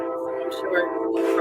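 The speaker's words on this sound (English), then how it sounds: "I'm sorry about that train." A train rumbles past in the background with a sustained horn-like tone, steady and moderately loud beneath a voice talking throughout.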